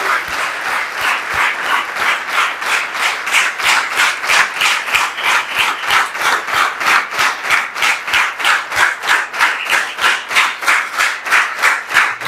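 A church congregation applauds in strong, rhythmic unison, about three claps per second, sustained loud and even with no talking over it.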